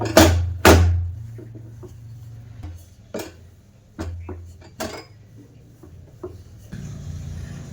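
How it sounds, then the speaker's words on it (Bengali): Spinach paratha dough is rolled out with a rolling pin: short, low rumbling strokes alternate with sharp wooden knocks and clacks against the board, with quiet gaps between them. "এবার পরোটাটা হালকা করে বেলে নেব"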